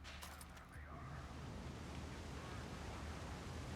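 Water rushes out in the video game Far Cry 6, a steady broadband wash like surf that starts after a brief clatter and holds at a constant level to the end.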